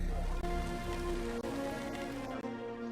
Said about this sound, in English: There was constant tropical rain.